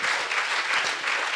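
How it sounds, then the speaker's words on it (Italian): Audience applause at a Festa Democratica event in Turin, dense, steady clapping from a large crowd. "Qui l'applauso ci sta bene, sapete?"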